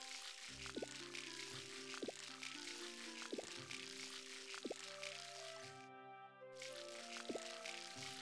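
Watering crops with a watering can in the Harvest Moon: Light of Hope farming game, a series of short digital splash and drip effects repeating roughly every second over a soft background music bed, with a brief pause near the end.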